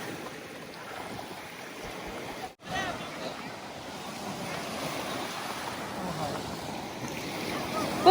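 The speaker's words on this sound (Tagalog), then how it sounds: "Ang lakas ng alon eh." Strong sea waves surge and wash continuously, a broad hissing roar with wind buffeting the microphone and one sharp dropout near the start, while people talk faintly.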